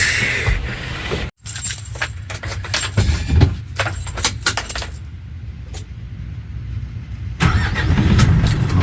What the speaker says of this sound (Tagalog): Lilipat muna natin itong malaking truck na to.